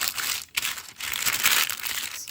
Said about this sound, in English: I'm going to use a tracing paper, and that will make the noise